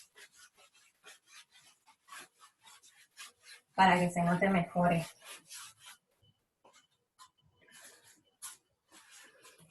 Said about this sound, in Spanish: Voy a tratar de escribir un poco más fuerte con la tiza entonces,